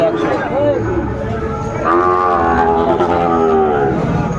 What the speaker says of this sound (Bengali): শাহিওয়ালার ষাঁড় বাচ্চা।